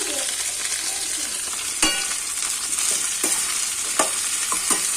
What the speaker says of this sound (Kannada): ಮೊದಲು ಉಪ್ಪು ಹಾಕಿ ಚೆಂದಾಗಿ ಫ್ರೈ ರೀ